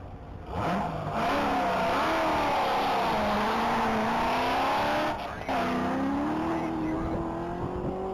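A race car on the track at a Texas Mile top-speed event, its engine revving loud and rising through the gears with strong harmonic sweeps, briefly dipping as it shifts before pulling hard again.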